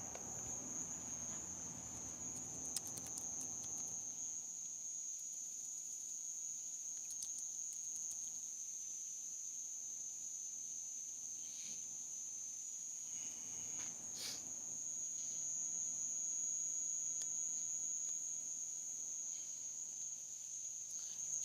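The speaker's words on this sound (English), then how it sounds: "There's like a cricket out here, man. You hear that?" A cricket chirping outdoors at night with a steady high-pitched trill that runs throughout, close and continuous, over faint background noise and no speech.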